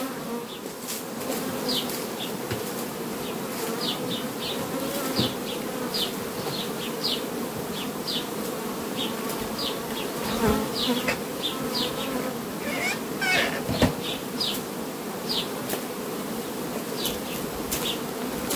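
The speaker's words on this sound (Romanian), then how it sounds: "Iată ce de albine." Dense swarm of honeybees buzzing around beehive frames, a steady close hum that holds for the whole stretch, with brief sharper buzzes from individual bees darting nearby and occasional faint knocks.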